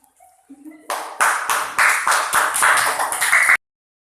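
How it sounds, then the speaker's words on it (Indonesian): Classmates applaud a student group after their presentation in a classroom, a few scattered claps quickly building into a dense burst of rhythmic clapping that stops abruptly, with brief voices before it. "Tepuk tangan untuk kelompok 3"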